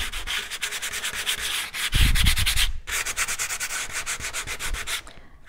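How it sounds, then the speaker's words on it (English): Sandpaper rubs over the surface of a painting in progress, close and loud, with rapid back-and-forth strokes in a steady rhythm and one brief pause near the end. "I'm not sanding everywhere, just on some places."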